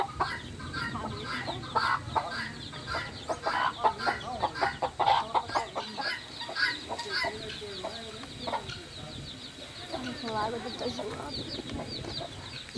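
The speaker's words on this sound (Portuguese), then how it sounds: "A galinha ali com os pintainhos protegidos numa mesa aqui, ó." A hen with her chicks clucks in an outdoor farmyard, soft repeated clucks and thin chick peeps going on steadily at moderate distance, with a person speaking quietly at times.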